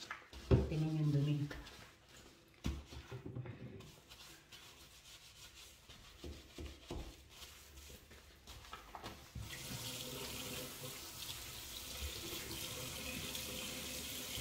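Water runs and splashes while a shower is being scrubbed clean, with intermittent rubbing and knocking at first, then a steadier hiss of flowing water in the latter half; someone speaks briefly near the start.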